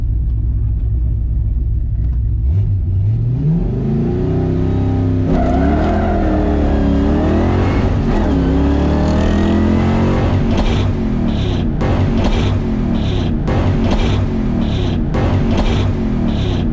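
A Ford Fox Body with a T5 manual transmission revs hard, its engine rumbling and climbing through repeated rises in pitch, loud and close, with bursts of sharper racing-style acceleration toward the end.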